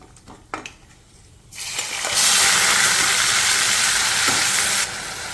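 Onion puree hits hot oil seasoned with dried red chillies in a pan for a garlic clove curry. After a few quiet knocks, a loud, close sizzle bursts up and holds steady for about three seconds before easing slightly.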